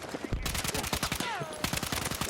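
A UMP submachine gun fires rapid automatic bursts in the Battlefield 6 video game, a steady stream of sharp, close shots throughout.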